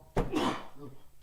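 A single sneeze bursts out during a live sports talk show, sharp and close, followed by a brief trailing breath and murmur.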